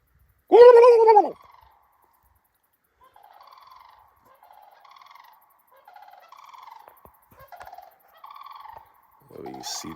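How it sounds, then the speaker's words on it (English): A loud wild turkey gobble rings out close by, followed by a series of fainter, shorter gobbles and calls from other turkeys farther off. "Got some wild turkeys here."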